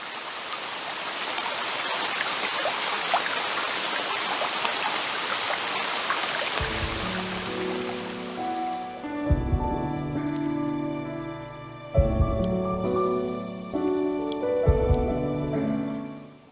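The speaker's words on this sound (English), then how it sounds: "I don't know if you can hear the rain, but it's such a wonderful sound, such a calming sound." Steady outdoor rain falls in an even hiss at a landscape photography spot, then fades under a soft, sustained musical background with held tones.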